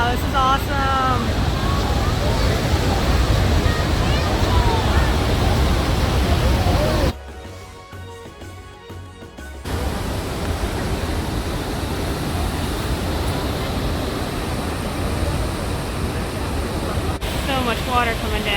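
Niagara Falls pouring down in a loud, steady roar of rushing water, heard up close from right in the spray with voices talking over it; the roar dips briefly for a few seconds partway through, then returns.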